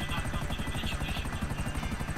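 Rapid, steady rotor chop of a helicopter in the video game GTA, loud and close with an even pulsing beat and a high whine above it, no talk over it.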